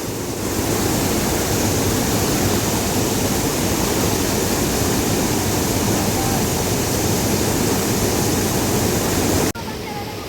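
A fast-flowing, flooded village river rushes past in a dense, continuous roar that stays loud and close, then stops abruptly near the end.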